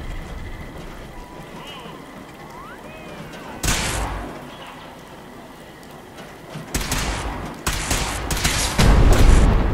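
Gunfire in the video game Fallout 4 comes as scattered bursts and booms, some distant and some closer, over an ambient background.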